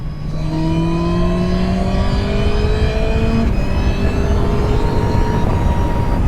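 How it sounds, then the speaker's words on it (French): Suzuki Hayabusa motorcycle pulling hard in fifth gear from around 5000 rpm, a loud, steady engine drone with a smoothly rising pitch, heard close and continuous with wind rush and no talk. "À 5000 tours minute en 5e, la moto vous propulse en avant sans jamais aucune faiblesse."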